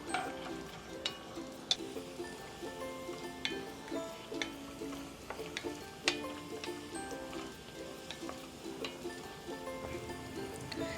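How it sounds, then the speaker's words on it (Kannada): Cashews and raisins frying in a small pan until golden brown, a soft crackling sizzle with frequent light taps and clinks of a spoon stirring. The sound is quiet, close and busy, with no speech. "ಗೋಡಂಬಿ ಸ್ವಲ್ಪ ಕಲರ್ ಬರೋ ಟೈಮ್ಗೆ ಒಣ ದ್ರಾಕ್ಷಿ ಹಾಕ್ಕೊಂಡು ಗೋಲ್ಡನ್ ಬ್ರೌನ್ ಬರೋವರೆಗೂ ಫ್ರೈ"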